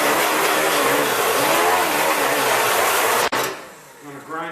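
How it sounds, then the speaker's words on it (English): Angle grinder with a cutting wheel grinding on an original spot weld of a 1968 GTO trunk floor, a loud harsh continuous grinding roar that cuts off abruptly, then winds down quietly. "going to grind on top of the original spot weld"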